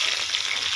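Onion and green chilies sizzle steadily in a hot pan, a dense, even hiss that fills the short moment without pause or voices.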